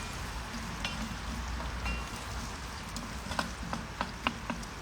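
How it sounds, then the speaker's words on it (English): Steady crackling sizzle of potatoes and chorizo frying in oil in a pan on a Big Green Egg, with scattered sharper pops and ticks rising above the continuous hiss. "give those potatoes and chorizo a stir. So they're frying nicely."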